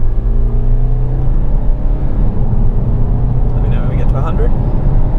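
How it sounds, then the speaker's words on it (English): A BMW F30 320d M Sport accelerates from 0 to 100 km/h, heard from inside as a loud, steady engine drone with road roar throughout. Voices talk over it. "We'll try and get another 0 to 100 in here."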